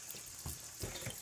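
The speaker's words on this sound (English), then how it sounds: "So you wanna wash them off, or I usually wash them off with cold water" Cold tap water runs at a kitchen sink to rinse smelt fish, a brief steady splashing stream with a couple of heavier gushes as the fish are washed.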